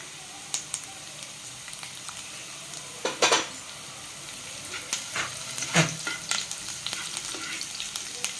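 Finely chopped garlic and ginger fry in a pan with a steady soft sizzle, broken by a few louder scrapes and clinks of a spoon stirring against the metal.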